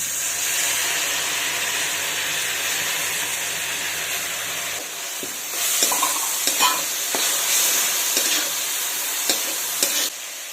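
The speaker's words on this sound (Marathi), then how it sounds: "डाळ परतून झालेली आहे." Soaked dal sautéed with onion and green chili in a pan over low flame, a steady sizzle and fry with repeated spatula scrapes and stirring knocks growing busier toward the end, close and alone.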